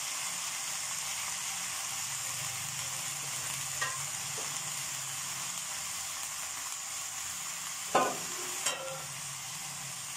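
Chicken stock simmers with cabbage roll filling in a pan, giving a steady soft sizzle and bubbling hiss, with a few brief spoon scrapes against the pan.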